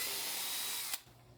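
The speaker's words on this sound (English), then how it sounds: "Naturally, the drill bit wandered in the plywood and did exactly what I was trying to avoid." A power drill bores into plywood with a steady, fairly quiet whirring grind that cuts off abruptly about a second in, leaving faint background hiss.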